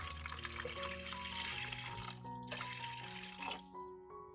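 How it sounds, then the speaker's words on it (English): Water runs and splashes steadily into a large cup, a close continuous pouring sound that tapers off near the end. "Pour 60 milliliters of water into a large cup."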